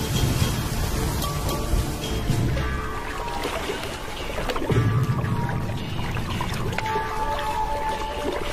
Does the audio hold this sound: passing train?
no